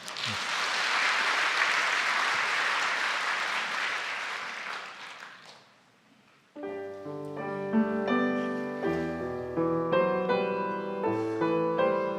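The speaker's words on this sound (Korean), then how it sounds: "박수 한번 하겠습니다." Church congregation at a New Year's Eve service clapping warmly for about five seconds, then fading. After a short pause, keyboard music begins with sustained chords.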